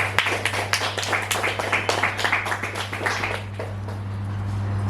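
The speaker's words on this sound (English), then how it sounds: "Round of applause for Barry Gilder." Audience at a book talk applauds author Barry Gilder with a burst of scattered hand claps that thins out after about three seconds, over a steady low electrical hum.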